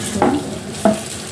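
A paste of arum, peanuts and garlic is stirred in a pan, with two short scraping strokes of a spoon about half a second apart over a soft steady sizzle, close and fairly loud, with no talking.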